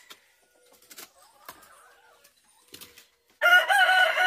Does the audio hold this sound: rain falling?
no